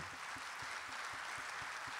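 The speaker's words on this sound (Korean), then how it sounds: "우리 박수 한번 먼저 할까요?" A church congregation claps for a guest deacon at a Sunday service, a soft, steady wash of many hands with faint rhythmic low thumps, continuous and without speech.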